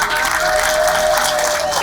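Crowd applause at a public gathering, a dense steady clapping that fills the whole moment, loud and close with no talk over it.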